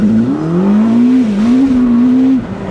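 A Ferrari SF90 Spider launches hard, its engine note rising and falling in a loud, close, sustained drone with a brief dip near the end, no talking.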